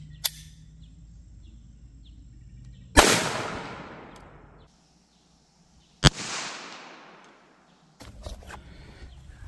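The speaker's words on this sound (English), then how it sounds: "All right, here we go with the 22 long rifle." A .22 Long Rifle pistol is fired into a watermelon outdoors, giving two sharp, loud cracks a few seconds apart, each followed by a decaying rumble, with quieter ambient sounds and faint birds between.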